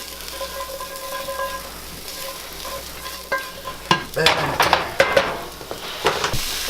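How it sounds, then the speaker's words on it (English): Potatoes fry over medium heat in a pan with a steady close sizzle, then loud scraping stirs and clacks of a utensil against the pan come in repeated bursts. "Mix it all up. Let them go on, I don't know, medium heat."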